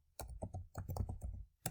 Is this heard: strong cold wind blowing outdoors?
no